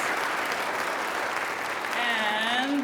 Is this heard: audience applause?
yes